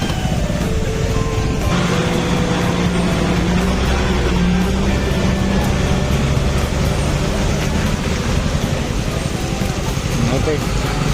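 Road traffic of cars passes near the Uma river, a continuous loud rumble of engines and tyres with people talking throughout.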